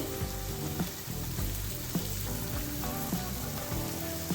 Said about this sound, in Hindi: अब हम इसमें प्याज ऐड करेंगे, स्प्रिंग ऑनियन ऐड करेंगे, थोड़ी सी हरी मिर्च ऐड करेंगे